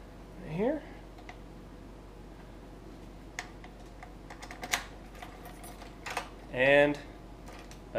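A key works a Grate House high-security deadbolt lock on a door, giving faint, scattered clicks and small metallic rattles between short bursts of speech.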